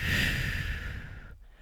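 One long exhale during a sophrology relaxation exercise, a close breathy sigh that fades to quiet.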